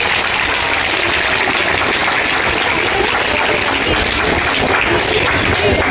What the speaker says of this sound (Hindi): चलिए हम सभी एक बार अपने लिए बहुत जोर से तालियां बजाते हैं